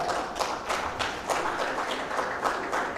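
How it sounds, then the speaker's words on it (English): Audience at a Ugandan agroecology week ceremony clapping for a former country director, a steady patter of moderate applause from a modest crowd, no voices over it. "Let's clap for her."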